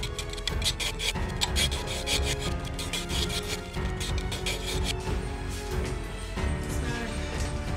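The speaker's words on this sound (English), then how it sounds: "I decided to start off with sharpening all the blades" Blades are sharpened by hand with continuous, close rasping strokes, a steady scraping rhythm heard with no talking.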